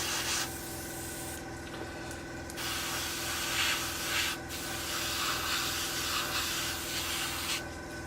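Continuous hiss of light spray painting over a black bathtub, steady mid-level spraying with brief pauses and a constant low mechanical hum underneath.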